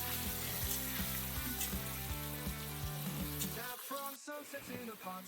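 Rice and pasta fry in a hot pot for Greek rice pilafi, producing a steady close sizzle with light scraping under a background music bed.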